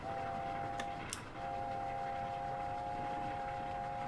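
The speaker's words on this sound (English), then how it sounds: "And that is such a good whistle." Steam locomotive whistle from an LNER A4 in Train Simulator 2020, a steady sustained two-tone blast over constant rolling rail noise, briefly broken near the start then resuming loud and continuous.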